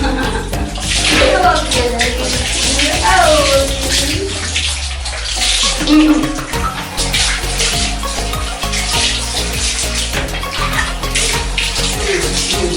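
Water runs and splashes steadily while a pet dog is bathed, with a tap flowing and sloshing throughout and a person talking over it.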